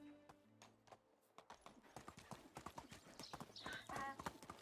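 Horse hooves clip-clop steadily while riding in the medieval survival game Medieval Dynasty, a quick regular rhythm of close, distinct footfalls with a brief whinny near the end.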